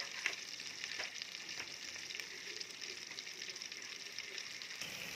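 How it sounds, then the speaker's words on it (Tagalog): Onions frying in oil in a pan as the base of an alfredo pasta sauce, a steady close sizzle with light stirring scrapes, no talk. "Lalagyan na natin yung ating sibuyas."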